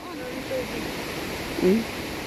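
A steady broadband rush of flowing water fills the scene, with a brief voice rising over it near the end.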